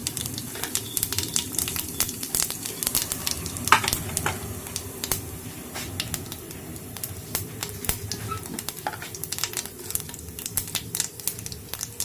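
Cumin seeds frying in a hot pan with dried red chillies give a steady, close sizzle and crackle, broken by frequent sharp pops and stirring scrapes throughout.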